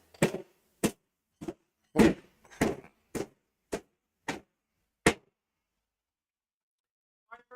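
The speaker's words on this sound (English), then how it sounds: "Major hammering back there." Hammering from back in a workshop: about nine sharp, distinct blows at a steady but uneven pace, a couple doubled, then a pause and faint activity at the end.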